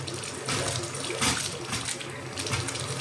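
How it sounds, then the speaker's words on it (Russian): Strong, steady gush of water running from a tap at high pressure in a small jungle house, broadband and continuous with slight surges, close to the microphone, with faint voices in the background. "А здесь прям нормальный напор сильный."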